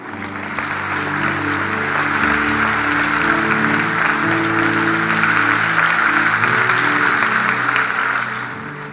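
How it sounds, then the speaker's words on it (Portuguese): A church congregation applauds the Lord during a sermon, a loud, sustained wash of clapping that swells in and holds steady throughout, with music playing underneath. "Vamos dar um aplauso ao Senhor por isso."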